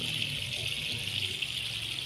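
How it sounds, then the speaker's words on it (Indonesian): Steady rushing water poured over azolla plants during fern cultivation, a continuous close splashing flow with no talk. "Seperti ini kita akan siram terus."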